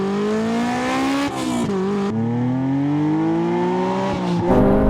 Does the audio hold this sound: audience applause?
no